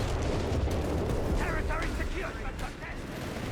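Howitzer artillery fire in the Company of Heroes 3 strategy game produces a dense, rumbling barrage of blasts and crackling impacts that continues under a commentator's steady talk.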